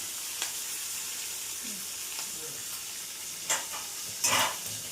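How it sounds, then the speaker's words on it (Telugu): Curry leaves sizzle in hot oil while being stirred for sambar, a faint steady frying hiss with occasional light scraping clinks from the spoon. "కరివేపాకు వేసేసాను"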